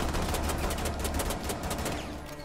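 Rapid automatic gunfire in the tactical shooter Rainbow Six Siege, a dense continuous burst of shots sustained loud and close for the whole stretch, with no talking.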